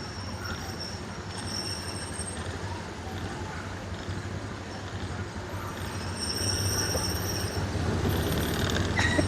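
The Disneyland monorail passes with a continuous rumble and high whines, slightly louder toward the end, over park ambience and a faint recorded announcement.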